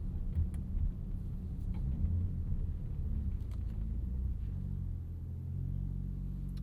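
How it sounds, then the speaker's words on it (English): 2025 Audi SQ5 SUV with a turbo V6 driving at night, a low steady engine rumble and road drone heard from inside, fairly quiet with no talk. "Give you some V6 ASMR."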